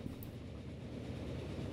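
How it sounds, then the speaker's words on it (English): A fully loaded freight train carrying bricks rolls slowly along in a train simulator game, a steady low rumble with faint rail noise, continuous and alone. "We got the freight train joining us again. Going a bit slow because he's full of bricks"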